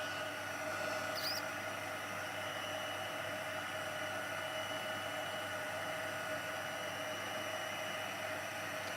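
Heat gun melting embossing powder on a card lid, a steady broadband blowing hiss running throughout at an even level, with no speech.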